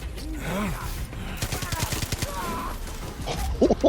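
Submachine gun fire in the video game Far Cry 6, several quick bursts of rapid shots in the middle, with someone talking in French over the game sounds.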